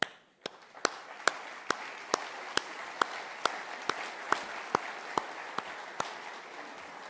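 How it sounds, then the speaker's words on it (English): Slow, evenly spaced single claps ring out about twice per second, crisp and fairly quiet against a hushed background, applauding project teams at an awards event for the top construction projects of 2020. "we applaud you and your teams"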